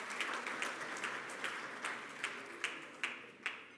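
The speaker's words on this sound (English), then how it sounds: "a round of applause for this session" Sparse audience clapping at a Free State small-business and co-operatives dialogue after a session ends. A few distinct, evenly spaced claps sound fairly faint and thin out toward the end.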